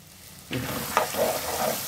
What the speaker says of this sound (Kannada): ಈಗ ಈ ಸ್ವಲ್ಪ ಚೆನ್ನಾಗಿ ಫ್ರೈ ಆಗಬೇಕು, ಕ್ರಿಸ್ಪಿಯಾಗಿ ಬಾಯಿಗೆ ಸಿಗಬೇಕು